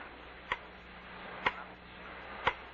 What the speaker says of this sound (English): It's only a clock. Grandfather clock. It never stops, day and night.